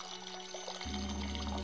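Water spurts up through a small hole in the base of a sand-filled pedestal in the video game Discworld II, a faint rushing that swells louder partway through and then holds steady.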